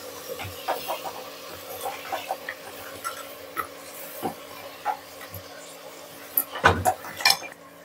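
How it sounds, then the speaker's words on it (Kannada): Beans tipped into a cooking pot for a simple Kannada vegetable gravy, heard as soft scattered clinks and rattles against the metal over quiet kitchen hiss, with a louder cluster of clatters near the end. "ಈಗ ಬೀನ್ಸ್ ಹಾಕೋತಾ ಇದ್ದೀನಿ."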